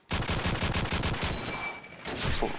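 Rapid automatic gunfire from Call of Duty 2 on the mp_burgundy map in a competitive LAN match. The shots sound close and loud in a steady rhythm with a brief gap near the end, and no talk is heard over them.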